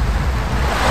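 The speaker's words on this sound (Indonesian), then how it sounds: "Perhatikan deras air." Fast, swollen flood water rushing from an overflowing river after a burst embankment in a Malaysian village, a loud, steady roar filling the whole stretch with no voices.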